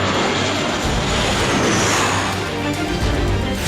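A KAI FA-50 Fighting Eagle light combat jet roars loudly and continuously, a broad, rushing engine blast that holds nearly constant for several seconds.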